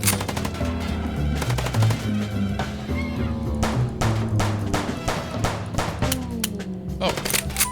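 Rapid bursts of gunfire from the video game Chicken Police keep firing throughout, layered over steady game music with sharp volleys and a few heavier hits, with voices talking in places.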